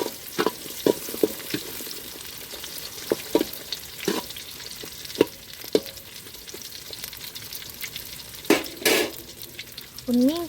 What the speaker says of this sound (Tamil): போட்டு வதக்கிட்டுருக்காங்க.